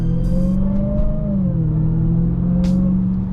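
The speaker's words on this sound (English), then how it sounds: "My God, that supercharger sounded good" A supercharged Dodge Hellcat engine holds a steady, loud rumbling idle with a rising and falling whine, swelling slightly as it revs, close by with no voices.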